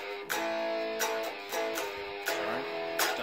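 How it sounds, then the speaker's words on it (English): Electric guitar plays a riff, a short repeating pattern of strummed, bright chord hits with sustained notes between them, fairly close and moderately loud. "So the riff is going to sound like this."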